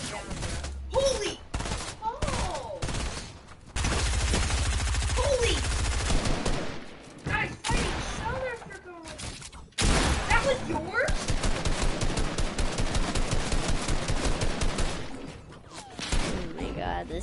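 Rapid bursts of video game gunfire crackle through a hectic team match, with stretches of sustained automatic shooting between louder clusters, while players talk excitedly over the action.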